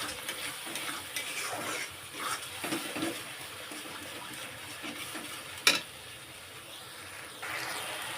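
Mustard seeds fry quietly in a pan on a low gas flame, giving a faint continuous sizzle with occasional stirring scrapes and one sharp pop.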